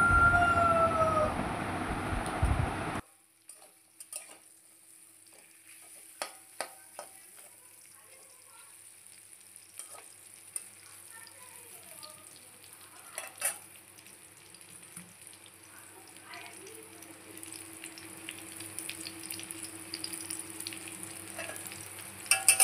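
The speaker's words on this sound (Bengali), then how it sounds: "এরপর আমগুলিকে ভালো করে নাড়াচাড়া করে নেব।" Dried mango pieces stirred in a pan for a sweet-sour jaggery mango pickle, with sparse scrapes and clicks from the spoon and faint kitchen noise, following a short louder opening.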